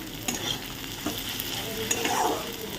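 Rohu fish frying in hot oil in a home kitchen, a steady close sizzle with crackles and occasional stirring scrapes, no voices.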